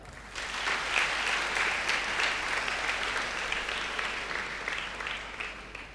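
An audience applauds after a youth speech paying homage to national leaders, a sustained, even clapping that swells in quickly and holds steady for several seconds without talk.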